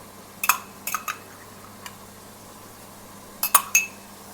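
Mutton being stirred with ginger garlic paste in a pot, with scattered metallic clinks and scrapes of a spoon against the pot in short clusters and a quiet background between them.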